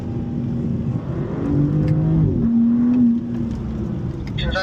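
A BMW car on a driving school track at the BMW M School in Spartanburg, South Carolina: a loud, close engine revs and climbs in pitch under hard acceleration, holds a strong whine, then eases off.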